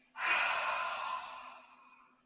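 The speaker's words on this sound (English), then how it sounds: "Inhale and exhale." A single slow, deep exhale during a beginner yoga flow, soft and close, swelling quickly and then fading gradually over about two seconds in a quiet room.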